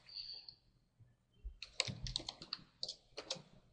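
Someone types registration details on a computer keyboard, a quiet, close run of quick irregular key clicks following a brief softer tap.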